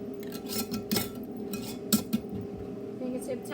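Metal rings screwed fingertip-tight onto glass canning jars of mushroom broth, giving several light clinks and scrapes with two sharper metallic taps, close and fairly quiet.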